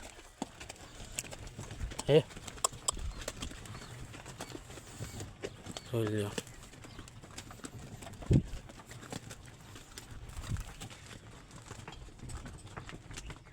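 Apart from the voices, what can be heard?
bullocks' hooves clip-clopping in a cartoon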